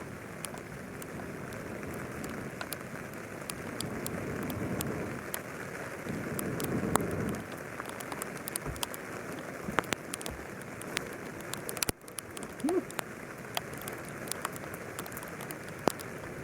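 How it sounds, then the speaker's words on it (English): Rain patters steadily on a camping tarp in the South San Juan Wilderness of Colorado, a continuous soft hiss with scattered sharper drops ticking closer, and a small campfire nearby. "Sitting in the rain under our tarp"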